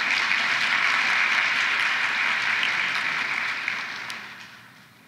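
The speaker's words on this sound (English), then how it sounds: "So let's give a round of applause for all of them." An audience at a campus APIDA recognition celebration applauds in a dense, steady wash of clapping that holds for several seconds before gradually tapering off.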